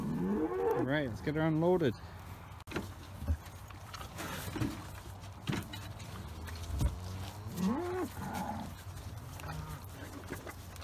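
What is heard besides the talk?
cows mooing waiting for mineral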